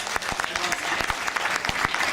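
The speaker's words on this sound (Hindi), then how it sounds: "रंजीता गोयल के लिए जोरदार तालियां" Loud, lively applause from the crowd at a Holi celebration at Vishwa Hindu Mandir honoring Ranjita Goyal, with sharp individual claps standing out over a continuous wash of clapping throughout.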